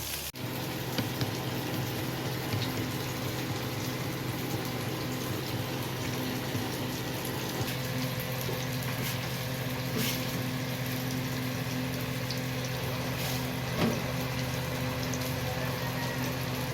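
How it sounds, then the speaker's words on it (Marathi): Steady, dense wash of heavy monsoon rainfall outside continues for the whole stretch, an even hiss with a low hum underneath and a few louder drops standing out. "मस्तपैकी बाहेर पाऊस पडतोय"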